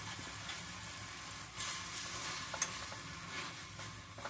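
Fresh washed coriander sizzles steadily in a hot pan for tomato chutney while it is stirred, with a continuous frying hiss and occasional soft scrapes and clicks of the spoon, close and alone.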